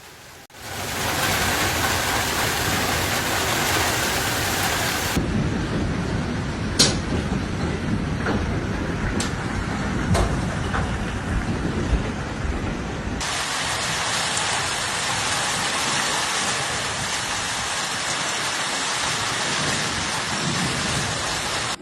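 A heavy thunderstorm in Brisbane, Queensland, with hail reported: steady, loud heavy rain throughout, punctuated by several sharp thunder cracks and rumbles, with the downpour intensifying toward the end.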